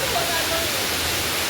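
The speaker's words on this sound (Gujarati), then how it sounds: "ધોધ પડે છે જોરદાર ચરણું પથ્થરમાંથી" A strong waterfall at Pachmarhi in Madhya Pradesh pours from rock near a cave, a loud, dense, unbroken roar of rushing water with a faint voice beneath it.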